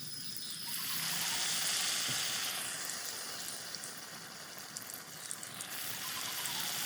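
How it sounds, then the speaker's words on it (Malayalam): Stuffed banana (pazham nirachathu) fries in hot oil, giving off a soft, steady, fairly faint sizzle with gentle bubbling throughout. "അപ്പോൾ നമ്മുടെ ബനാന റോസ്റ്റ് ഇവിടെ കിടന്നുണ്ട്, നല്ലോണം ഫ്രൈ ആകുന്നുണ്ട്"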